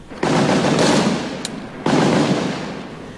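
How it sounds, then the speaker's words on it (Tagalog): Gunfire exchange between government troops and MNLF rebels in a barangay: two sharp bursts of shots, each followed by a rolling echo that slowly fades, loud and outdoors. "Muling nangyari ang putukan sa Barangay Santa Catalina at Barangay Santa Barbara"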